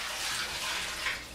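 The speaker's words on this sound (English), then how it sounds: "let me pour out this water for a moment" Water poured out of a dish, a short rushing splash into a sink at close range, with no talk.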